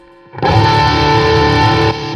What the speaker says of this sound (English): all it does, the way I have it set up is just boosting the signal so that it actually gets louder